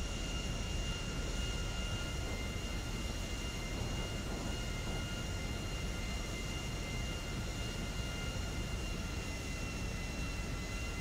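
Steady airliner engine drone in GTA V, a constant broadband roar at low level with a faint whine on top, unbroken and with no talk.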